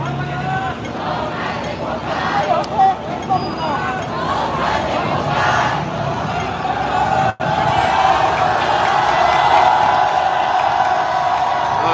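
A crowd of street protesters in Hong Kong cheers and shouts in a loud, sustained babble of voices, with a voice speaking nearby over it.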